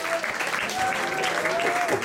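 Audience clapping at a live jazz club show fills the whole short stretch, a continuous, fairly close burst of applause with a few voices and faint tonal sounds mixed in.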